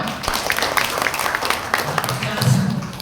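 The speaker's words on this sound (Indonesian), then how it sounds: "Oke, tepuk tangan, ayo." A short burst of applause from an audience at a Buddhist lecture, with clapping mixed under voices talking and cheering.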